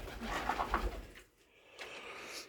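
Racing pigeons at a loft give soft, low cooing calls, near and fairly faint, for about a second. A quieter stretch and some faint rustling follow.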